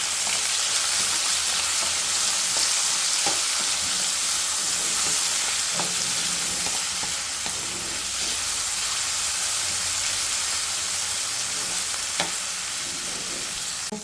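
Chopped tomato fries in a pan with a steady loud sizzle, while a spoon scrapes and stirs in occasional knocks and clicks, close up, with no speech.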